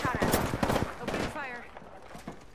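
Bursts of gunfire crackle in the Apex Legends video game, quick rapid shots in clusters, moderately loud and mixed with a player's voice talking, ending in a sharp louder blast.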